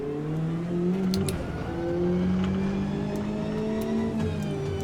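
GTE race car engine in the Automobilista 2 video game: a loud, steady engine note that climbs in pitch through the gears, with brief dips at the shifts and other cars droning nearby.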